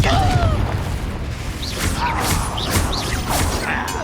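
Confringo fire spells burst in Hogwarts Legacy combat, several booming explosive blasts with whooshing trails spread over a few seconds, loud and near, mixed with game effects and faint voice shouts.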